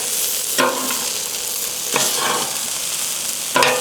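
Beef lo mein and sauce are tossed on a Blackstone griddle, a constant loud sizzle broken by three scraping stirs of the spatula at close range.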